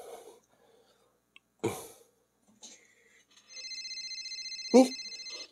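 A cellphone rings with a steady repeating electronic tone, moderately loud and close, after brief sounds of movement and a short voice.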